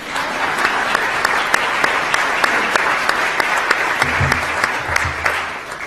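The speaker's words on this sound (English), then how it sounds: "Round of applause." An audience at an awards ceremony for pro bono legal service applauds steadily for several seconds, a dense, loud wash of clapping from a large crowd.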